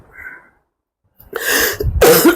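A person sneezes and coughs in two harsh, loud bursts after a brief faint sound and a short silence.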